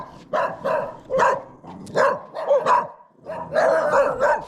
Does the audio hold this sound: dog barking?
yes